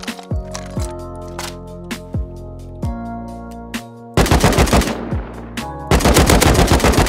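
AK rifle spraying full-auto in the video game Rust, with rapid repeated gunshots in bursts, loud and close, the firing growing denser and heavier in the last seconds.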